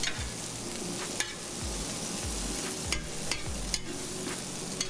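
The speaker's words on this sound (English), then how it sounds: "After our onion saute for about 2-3 minutes" Onion sauteing on a flat top griddle, a steady low sizzle with sharp spatula scrapes and taps at irregular intervals, close and quiet, no speech.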